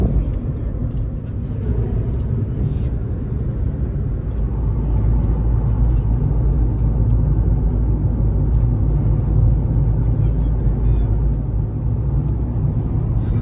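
Car driving along a highway toward Vinnytsia, Ukraine, a steady low engine and tyre rumble with road noise filling the whole stretch, continuous and close from inside the vehicle.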